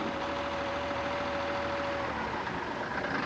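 A wheel loader's engine idling parked on level ground, a steady, continuous mechanical drone with a faint whine that drops away partway through, heard close and alone.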